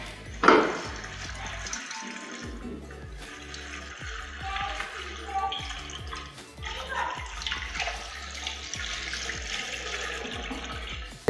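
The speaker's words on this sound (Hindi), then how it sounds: "अब इसमें हम 4 लीटर पानी शामिल करेंगे।" Four litres of water pour into a soup pot for a vegetable hot and sour soup, a gushing splash after a brief knock, then uneven sloshing and trickling that runs on close by.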